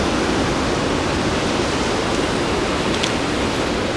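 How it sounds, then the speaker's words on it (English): Ocean waves break and wash continuously nearby, a dense steady roar of surf with no pauses and no voices. "when the waves break over it like that, and then the waves stacked up behind it"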